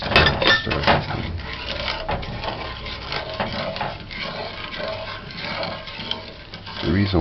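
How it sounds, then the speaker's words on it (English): A spoon stirs sugar and water together in a pot on the stove for Jamaican bulla buns, with repeated scraping and clinking against the pot, close and steady for several seconds. "You just stir it in."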